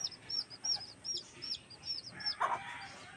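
A bantam hen with four chicks makes soft, repeated clucks close by, while the chicks peep in a steady run of high chirps throughout, with one louder squawk near the end.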